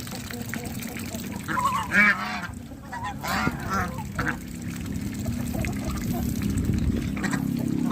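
Farmyard geese kept with ducks near water give several loud, nasal honks in the first half, then continue more faintly under steady outdoor background noise.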